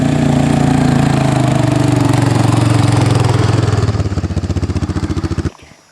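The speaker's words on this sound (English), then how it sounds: "This is James's new motorbike" A new motorbike's engine runs loud and close with a steady idle drone, then shifts to a pulsing, chugging beat before cutting off abruptly near the end.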